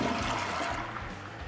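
A toilet flushes aboard a school bus converted into a caravan, draining to a black tank: a steady rushing swirl of water at close range, continuous and fairly loud, easing slightly toward the end with no voices.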